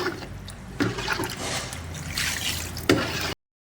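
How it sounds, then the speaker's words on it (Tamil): Water is poured into a pot of chicken curry, a close trickling and splashing flow lasting a few seconds with small surges, then cutting off. "உங்களுக்கு தேவையான அளவு தண்ணி வந்து நம்ம வந்து ஆட் பண்ணிக்க வேண்டியதான்"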